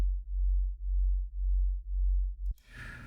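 A deep, pulsing synth tone wobbles in slow regular beats as detuned sine waves drift against each other, then cuts off into a brief burst of noise.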